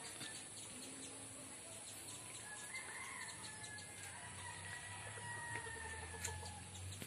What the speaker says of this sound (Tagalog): yung mga alaga kong mga manok